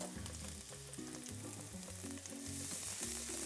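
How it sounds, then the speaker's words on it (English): Sliced garlic, about four cloves, sizzles and fries steadily in hot oil in a pan, a dense continuous crackle, loud and close, with no talking over it. "we add 1 tablespoon of sliced garlic, about 4 cloves"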